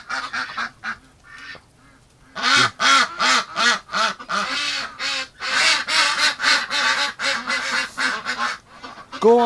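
Muscovy and other ducks indoors in winter, quacking and honking loudly in dense overlapping bursts, close by, with a quieter stretch at the start before the calls swell.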